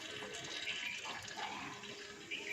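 Cold water poured from a container onto white lime in a plastic tub, a steady soft splashing and trickling stream that runs continuously and fairly quietly, with no voices.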